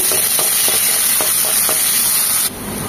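Chopped onion sizzles loudly in hot oil in a pan, a steady close frying hiss with a few soft stirring knocks, then the hiss drops off near the end.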